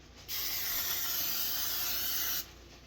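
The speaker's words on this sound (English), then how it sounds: "I'm just gonna spray my grill. And I'm also gonna put some on the fish." Cooking spray hisses from a can onto a grill and a piece of fish in one steady burst of about two seconds. The spray is close and even, with quiet room tone before and after.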